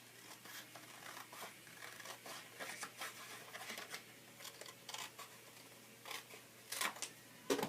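Paper pages of a book being cut for an altered book craft, heard as quiet, close snips and light rustling crinkles of paper spread through the clip, with no speech.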